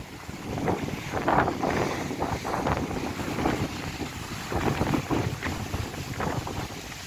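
Strong wind buffets the microphone over the rolling wash of waves at a port in bad weather, a constant loud roar with gusty surges.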